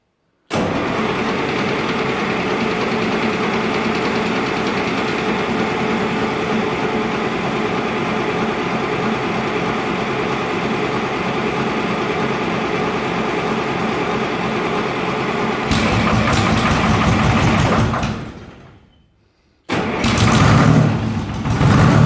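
A two-stroke diesel Toyota engine idles after a cold start, with a steady loud rattling chug for most of the time, then a rise in revs, a brief drop-out and a rougher surge.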